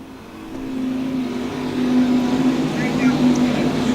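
Stock cars at a USRA finals race, engine drone rising as they roar past with revving pitch climbing, loud and continuous, under a commentator's voice.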